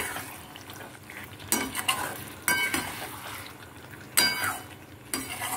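A utensil scrapes and knocks against a pot while a Chinese-style chilli Nutrella dish seasoned with ajinomoto is stirred. Several sharp clatters and scrapes sit over a low background hiss, close and with no talking.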